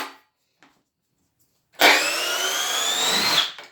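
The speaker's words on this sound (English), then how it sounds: "that's why you don't use drills to drive screws like this" A Milwaukee M18 brushless drill drives a screw into wood, silent at first, then a sudden, loud, grinding whir that holds steady for about two seconds before cutting off.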